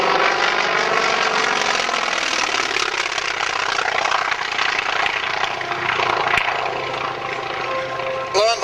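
A Russian biplane at the Wanaka air show gives a loud, steady engine drone that holds without a break for nearly nine seconds, with a faint voice underneath.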